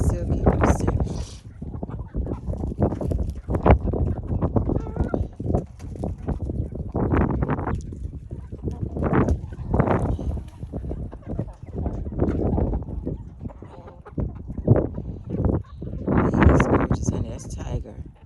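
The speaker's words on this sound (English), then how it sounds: "There's the silky rooster." Chickens and a silkie rooster cluck and squawk in a farm courtyard, with scattered calls rising over steady background noise while a person talks throughout.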